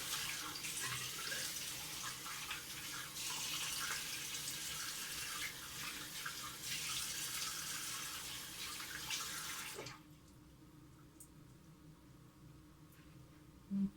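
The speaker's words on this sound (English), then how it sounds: "I'm just going to do a quick rinse off" A bathroom tap runs steadily and fairly loudly during a quick face rinse, then shuts off about ten seconds in, leaving quiet room noise and a small knock at the end.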